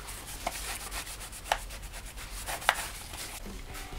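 Metal magazines for a replica gun are sanded by hand, giving repeated rhythmic scratchy rubbing strokes with a few sharper scrapes, close and moderately quiet with no voices.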